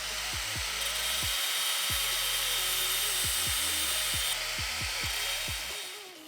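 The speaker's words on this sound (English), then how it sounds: "I'm gonna have to grind this end a little bit on both sides" A power tool grinds the end of a cheap aftermarket brake pad from a kit that didn't fit, a steady loud whine with repeated brief drops in pitch as the pad is pressed against it, running almost continuously.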